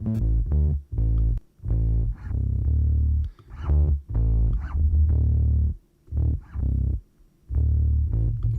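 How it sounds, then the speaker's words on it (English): Heavy, gritty bass notes in short repeated phrases, the low end saturated and buzzing with a distorted edge, punctuated by brief gaps. "Can you hear the distortion on the bass here?"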